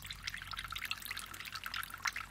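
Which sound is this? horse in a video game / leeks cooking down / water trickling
water trickling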